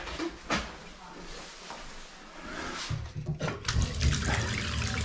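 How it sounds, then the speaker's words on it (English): Hot water running from a household bath tap after work on a pressurised hot water system, a close, steady gush with clunks and knocks over it and some talking. "got hot water coming out of the tap"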